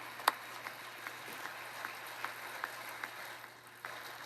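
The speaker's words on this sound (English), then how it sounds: "That clapping you hear louder, that's President Trump" At the State of the Union, President Trump claps among quiet, distant applause in the chamber. A few louder, crisp single claps stand out at a slow, irregular rhythm over the faint background clapping.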